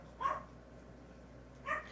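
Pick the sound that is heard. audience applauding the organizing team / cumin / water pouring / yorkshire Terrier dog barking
yorkshire Terrier dog barking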